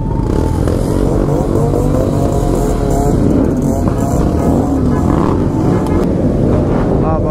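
A Suzuki GSX-R 1000 sportbike engine runs loud and close at a college auto expo, a steady droning roar with some revving, clatter and wind buffeting throughout.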